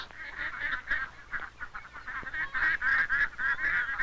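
A cluster of ducks at a country fair poultry contest honk and quack repeatedly and loudly, overlapping calls forming a continuous noisy chorus with no speech.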